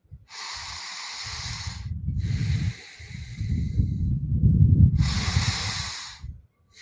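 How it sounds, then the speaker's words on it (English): Deep, paced breathwork breaths during a guided exercise, drawn in through nose or mouth and released as long, loud airy exhales, several in a steady rhythm, close and alone. "Go ahead and begin those 15 breaths now."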